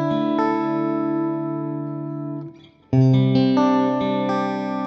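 Sustained synth chords run through the light preset of a free audio effect plugin, giving a chorused, gently distorted, shimmering tone; one held chord fades out, then another swells in loud and steady, with no voices.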